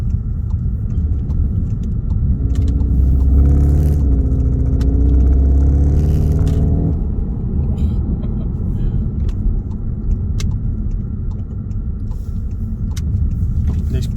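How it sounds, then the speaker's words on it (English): Petrol engine of a mk3 Skoda Octavia vRS heard from inside the cabin while driving, a steady low rumble with a brief rising tonal note partway through, continuous and moderately loud. "So I'll let you hear the engine."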